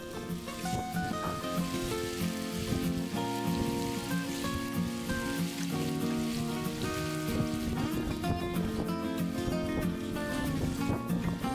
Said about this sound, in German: Draußen ist es windig, grau, regnet ein bisschen.